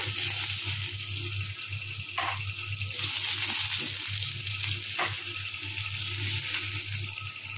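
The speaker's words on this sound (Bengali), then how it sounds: "এক একে আলুগুলোকে ভেজে নিই।" Potatoes frying one at a time in the oil left from frying tilapia fish, giving a steady, dense hiss with a low hum underneath and a few brief louder bursts.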